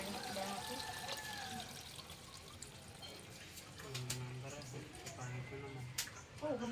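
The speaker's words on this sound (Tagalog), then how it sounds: "Lagyan natin yung gata na natin bago timplahan." Coconut milk poured into a cooking pan of jackfruit with sardines, a liquid trickle and splash under a voice talking over it.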